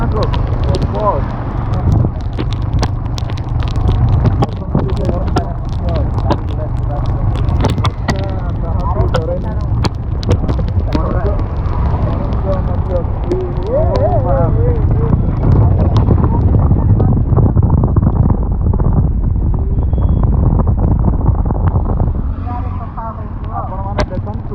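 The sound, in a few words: heavy rain at a petrol pump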